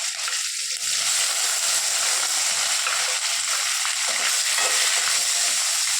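Okra frying in a pan with dried red chillies, mustard seeds and curry leaves for buttermilk kuzhambu, giving a loud, steady, hissing sizzle right up close that starts abruptly and never lets up, with no one speaking.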